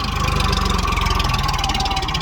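An Eicher 551 tractor engine runs with a rotavator attached, a steady close mid-to-low diesel drone with a fast regular firing pulse throughout, no voices.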